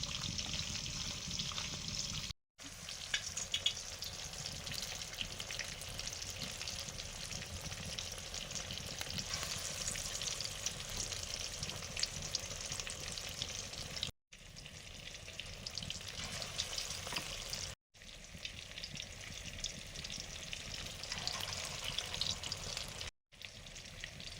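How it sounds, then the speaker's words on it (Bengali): Batter fritters made with chopped onion, salt, turmeric and chili powder frying in plenty of oil in a wok, giving a steady close sizzle with brief silent breaks. "পেঁয়াজটা কুচিয়ে নিলাম, নুন, হলুদ আর এই যে একটু লঙ্কা গুঁড়ো ভালো করে মাখিয়ে নেব, দিয়ে ভাজবো"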